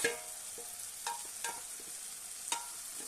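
Soaked puffed rice is stirred into cooked-down tomatoes in a pan, giving a quiet steady sizzle broken by a few soft spoon scrapes and taps.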